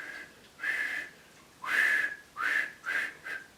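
A person whistles by sucking air inward, giving five clear, fairly quiet tones in short bursts with small pauses between them and no talking.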